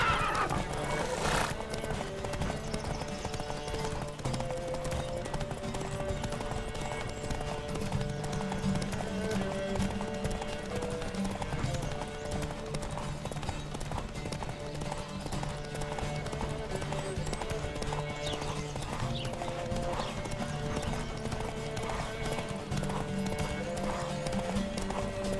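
Horse hooves clip-clop at a gallop during a horse race in The Witcher 3, with whinnies and neighs over a steady, dense mix of music and game sound, continuous throughout.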